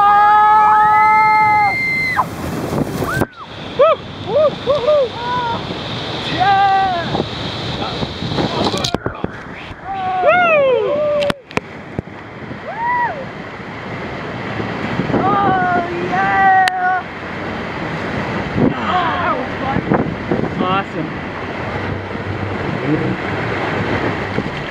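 A boat running a big whitewater rapid on the Colorado River in the Grand Canyon, with loud continuous rushing water and wind buffeting the microphone, while people shout and exclaim excitedly throughout.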